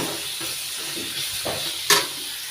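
Radish and potato curry frying in a pan with turmeric, giving a steady low sizzle with faint stirring scrapes and one brief sharper spatter near the end.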